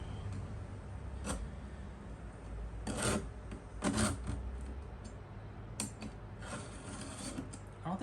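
A file rasps across chainsaw chain teeth in several short, separate strokes during sharpening, each a bright scraping burst with pauses between, heard close against a low steady background hum.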